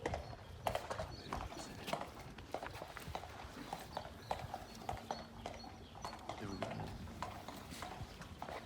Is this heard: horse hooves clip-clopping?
yes